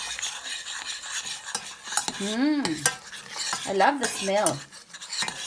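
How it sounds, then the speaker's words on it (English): Utensil scraping and clinking against a pot while a homemade hair mixture with Creamsilk is stirred on a stove, short rhythmic strokes under a woman's speech. "Give it a good stir and take it out in the stove and just give it a good stir."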